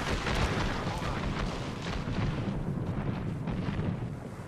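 Gunfire in the video game Apex Legends, a dense, continuous wash of loud weapon fire and booming impacts that holds steady without pause.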